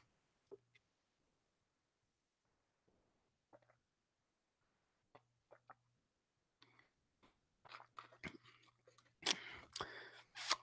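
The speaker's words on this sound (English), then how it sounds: "Can you hear the gulps when I'm drinking my water?" A run of soft, close gulps and swallowing clicks from someone drinking water, sparse at first and then quicker and denser, in an otherwise quiet room.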